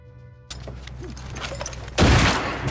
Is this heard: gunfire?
yes